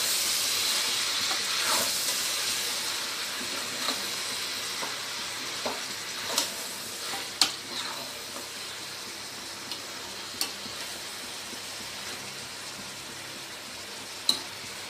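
Mint and coriander stirred into frying biryani masala, a steady hissing sizzle that fades slightly over time, punctuated by occasional sharp clicks of the spoon against the pot.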